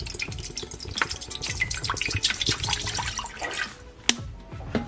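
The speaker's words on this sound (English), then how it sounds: "So go ahead and pour your water in." Water poured into a pot, heat-resistant cylinder used as a double boiler for melting shea and coconut lotion ingredients, splashing and trickling steadily and close for several seconds before a sharp clink near the end.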